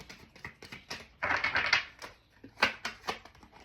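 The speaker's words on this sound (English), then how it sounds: "these cards are hard to shuffle right now" Crisp riffling and clattering of tarot cards being shuffled, in uneven bursts with a louder flurry in the middle, fairly close and without talk.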